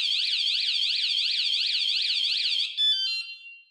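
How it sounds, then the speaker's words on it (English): A loud electronic security alarm on a Lectric XP 2.0 electric bike wails in rapid repeating sweeps, then switches to a steady high tone before fading out. "if I move the alarm, it's gonna immediately alarm."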